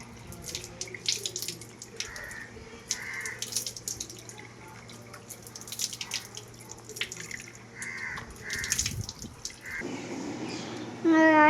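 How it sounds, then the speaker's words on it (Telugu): A tap runs steadily into a sink during face washing, with splashing and dripping that shift as hands move through the stream. A louder gush fills the end. "ఇప్పుడు నేనైతే ఫేస్ వాష్ చేసుకుంటున్నా"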